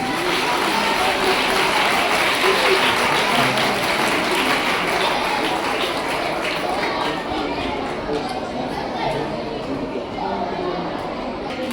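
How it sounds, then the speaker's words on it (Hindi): Children clapping at a government school prize event, a steady dense patter filling the whole stretch, with chatter and voices mixed in underneath. "आप तालियां तो बजा दो कम से कम"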